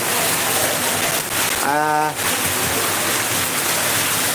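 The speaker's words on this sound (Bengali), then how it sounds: "শিলাবৃষ্টি হচ্ছে" A dense, loud hiss of heavy rain with hail pours continuously, broken briefly in the middle by a short tonal, voice-like sound.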